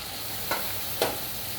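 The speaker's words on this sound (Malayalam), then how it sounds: "നല്ലോണം ഇളക്കി കൊടുക്കാം." Tomatoes and green chillies sizzling steadily in a pan for palak paneer, with two brief scraping stirs of a spoon rising over the constant frying hiss.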